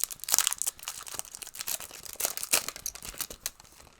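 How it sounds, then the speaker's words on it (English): Monopoly chance cards shuffled by hand, a dense run of crisp riffling and flicking card noises close up, steady for a few seconds with no talking. "Shuffling, you know, it is Monopoly. Gotta shuffle the chance cards."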